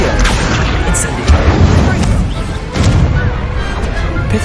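Incendio fire-spell blasts during a Hogwarts Legacy duel, loud booming bursts with crackling whooshes layered over constant combat noise, with sharper hits around the middle of the stretch.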